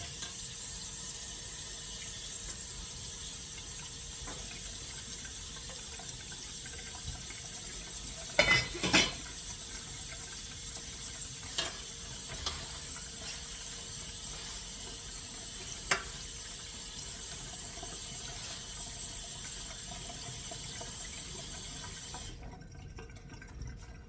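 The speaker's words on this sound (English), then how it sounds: "You're going to rinse them in the colander." Running tap water pours steadily into a colander while broccoli rabe is rinsed, a constant loud hiss with a few faint knocks and clinks before the flow stops near the end.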